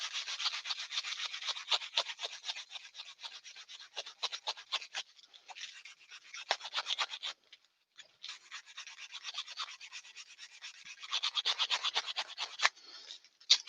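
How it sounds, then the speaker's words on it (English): Softwood being sanded with sandpaper, a dry rasping rub in quick, repeated strokes that runs nearly continuously, fairly close, with brief pauses and no talking. "we can get rid of that with the sandpaper like we did with the other one"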